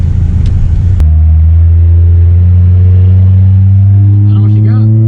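A Honda race car's engine drones loud and steady from inside the cabin with the windows up and the AC running, a deep constant rumble with sustained harmonics after a brief sharp knock at the start.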